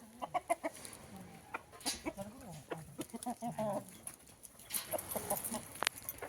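Chickens cluck softly in short scattered bursts, fairly quiet and a little distant, with faint voices now and then.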